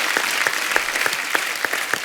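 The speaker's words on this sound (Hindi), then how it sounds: "उसके लिए जोरदार तालियां थी" A talk show studio audience applauds loudly, a dense even clatter of many hands with a few sharper individual claps standing out, heard alone without talk.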